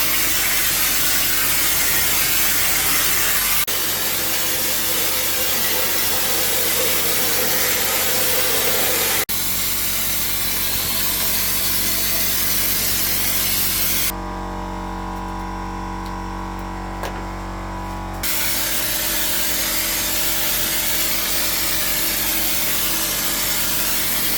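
Elastic coat paint sprays in a long, steady hiss from a pressure-adjusted spray gun, running continuously with brief changes in tone and one short quieter stretch where the spray drops to a low drone.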